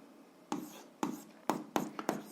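A pen writes an algebra equation by hand on paper, giving six short scratchy strokes spaced about half a second apart, close and quiet over a soft background hiss.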